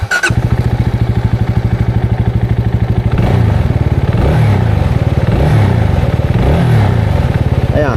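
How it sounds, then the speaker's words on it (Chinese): CFmoto 250CLC single-cylinder motorcycle engine cranks and fires up, settling into a steady close thumping idle before revving in several rising and falling bursts, loud and alone. "这个单缸的声浪怎么样啊？"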